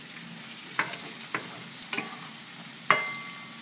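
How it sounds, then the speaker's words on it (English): Bacon and chorizo frying together in a pan with their rendered oil give a quiet, steady sizzle broken by a few scattered pops and sharp clicks, with no talking. "we have the bacon and the chorizo. That's cooking up nicely."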